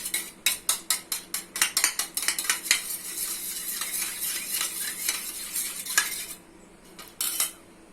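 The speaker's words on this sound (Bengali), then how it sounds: "ডিমের সাথে ভালো করে চিনিটা মিক্স করে নিতে হবে" Sugar and eggs whisked together in a bowl for semolina egg biscuits, a fast run of rhythmic metal-on-bowl clinks that loosens into steadier stirring, then pauses before a final few strokes.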